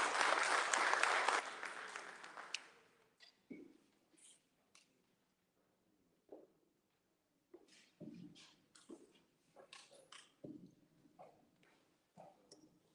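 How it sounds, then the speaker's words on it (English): Applause from an audience at a county candidates forum, loud for the first two to three seconds and then quickly fading, followed by scattered quiet knocks and faint voices in a hall. "Round of applause"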